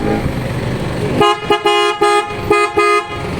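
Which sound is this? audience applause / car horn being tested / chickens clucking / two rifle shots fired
car horn being tested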